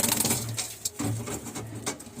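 Pigeons coo in a loft, several close, low rolling calls repeating in short bursts with brief gaps, over faint background rustle.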